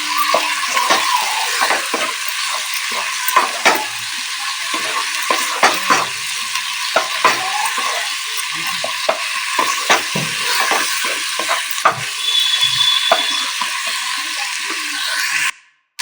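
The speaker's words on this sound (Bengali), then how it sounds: "এবার এই মশলাটা দিয়ে আমি খুব ভালো করে এই সবজিগুলোকে কষিয়ে নেব" Vegetables stir-fried with ginger-garlic paste and spices in a pan for soybean dopeyaja make a loud, continuous sizzle, broken by frequent spatula scrapes and clinks against the pan.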